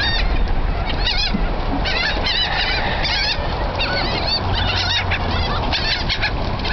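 Seagulls at a low-tide shore call loudly and repeatedly, a dense overlapping chorus of squawks and cries as they are fed cheese balls, with no talking.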